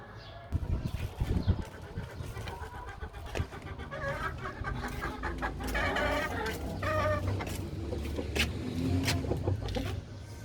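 Several chickens cluck and squawk nearby in irregular bursts as they are brought feed, with a few louder calls rising over a low background rumble.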